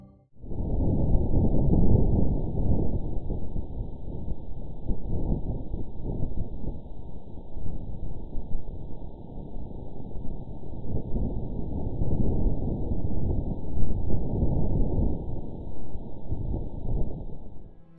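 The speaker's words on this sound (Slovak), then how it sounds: "Vypočujte si, ako znie vietor na Marse, ktorý bol po prvýkrát nahraný sondou Mars Perseverance rover od NASA" Wind on Mars recorded by NASA's Perseverance rover, a muffled, low, continuous rushing and buffeting that swells and fades for about eighteen seconds, alone and without voices.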